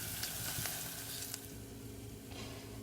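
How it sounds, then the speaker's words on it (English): Hot chili peppers, ground, being stirred into a sizzling vegetarian egg curry in a pan, with a steady soft frying hiss and a few brief scraping strokes, fairly quiet and with no talk. "Give it a good stir."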